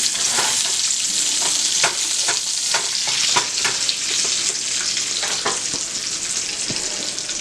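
Eggs sizzle and fry in a pan alongside bacon, cooking on low heat. A steady, close hiss of frying fills the clip, broken by occasional scrapes and stirring clicks.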